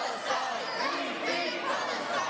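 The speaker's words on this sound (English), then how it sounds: "Chants could be heard across the State House from Hoosiers supporting Palestine." Crowd of pro-Palestinian protesters at the Indiana State House chanting and booing, many overlapping voices rising and falling continuously in a reverberant indoor hall.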